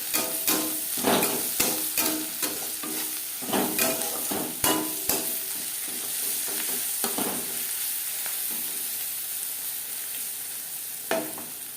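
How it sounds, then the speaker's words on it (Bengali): Onions frying with turmeric in a pan, a soft steady sizzle broken by repeated scraping stir strokes, close and alone. "সামান্য পরিমাণে হলুদ দিয়ে পেঁয়াজ লালচে করে ভেজে নেব"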